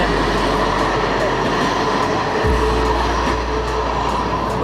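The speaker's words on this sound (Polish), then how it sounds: "masz tramwaj przyjedzie" A tram rumbles in steadily with a low, continuous rolling drone and faint squeals, loud and close throughout.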